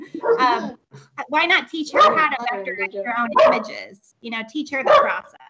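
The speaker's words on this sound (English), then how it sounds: "Sorry, that's my dog" A pet dog barks a few times in a home during an online public art committee meeting, the barks mixed in with and partly masked by a person talking continuously over them.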